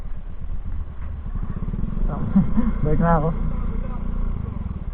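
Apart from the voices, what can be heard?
motorcycle engine on rocky road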